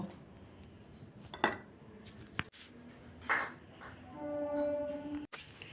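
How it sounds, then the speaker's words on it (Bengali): Mixed ground ingredients for a home remedy tipped into a steel mixer grinder jar, with a few sharp metallic clinks and knocks, a soft scraping pour, and a faint hum near the end, close and alone. "এবার মিক্সি জারের মধ্যে সমস্ত উপকরণ মা ঢেলে নিচ্ছে"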